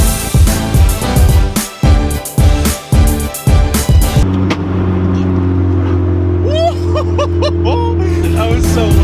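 Car doing a burnout on a spare tire, its engine revving hard in loud repeated bursts before settling into a sustained roaring drone with squealing overtones; voices can be heard over it.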